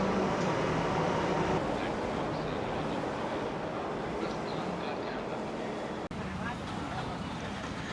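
A continuous low rumble and roar of a moving Delhi Metro Yellow Line train, steady and loud, with a brief click partway through.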